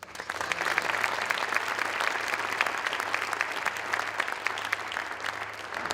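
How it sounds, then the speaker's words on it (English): Sustained applause from a sizable crowd, dense clapping that holds steady for the whole stretch with no voices on top. "So if we could give a round of applause for the Chamber"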